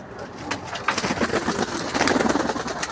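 Domestic pigeons coo in a loft, soft rolling calls repeating in a quick rhythm beneath a dense, noisy background of rustling and chatter from the flock.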